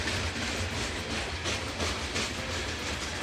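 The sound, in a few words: LEGO DUPLO toy train running on its track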